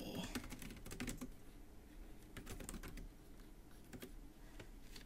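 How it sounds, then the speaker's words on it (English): Keys clatter on a TYPECASE Flexbook Touch iPad keyboard case in quick, uneven bursts of close, soft taps, fairly quiet, with no talking. "typing on it feels exactly like it would on my MacBook"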